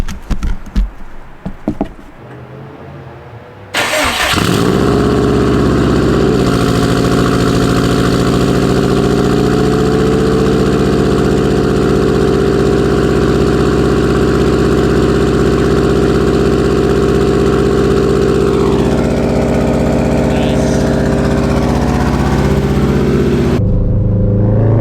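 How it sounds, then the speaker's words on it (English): A Honda car engine cold-starts after a few seconds of faint handling noise, catching loudly and settling into a steady, close idle that runs alone to the end. "cold start for the boys"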